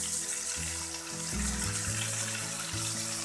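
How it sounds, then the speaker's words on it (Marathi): Bombay duck fish coated in semolina and gram flour fries in hot oil, giving a steady, dense sizzling hiss close by, with low background tones shifting underneath and no talking. "छान फ्राय करून घ्यायचं आपल्याला।"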